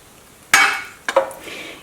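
A spoon knocks against a metal pot while chicken lemon soup is stirred, giving one sharp clink followed by two lighter taps that ring briefly in a quiet kitchen.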